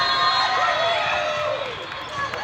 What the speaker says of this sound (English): The crowd is at a fever pitch.